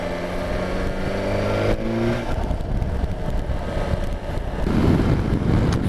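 A 2020 BMW S1000 XR motorcycle engine pulls through the gears, its rising harmonic tone climbing before a gear change, then a rougher, steady drone with wind rushing over the microphone, close and loud throughout.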